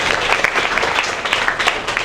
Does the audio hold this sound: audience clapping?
yes